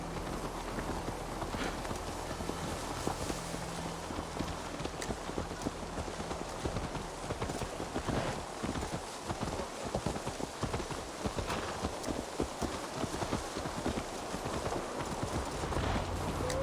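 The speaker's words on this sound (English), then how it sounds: "Let's return the horse." A horse's hooves clip-clop at a steady walking pace in Assassin's Creed Valhalla, a continuous rhythmic clatter over faint game ambience, with no one speaking.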